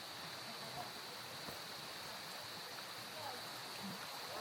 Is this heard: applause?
no